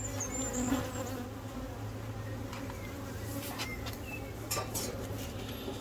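Continuous soft buzzing of many honey bees close by on a hive frame, a steady low hum with faint clicks now and then.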